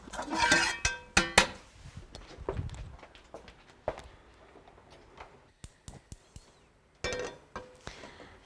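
A metal pan clanks and scrapes against a hard counter, with sharp clinks and knocks spread out over several seconds, then quieter taps.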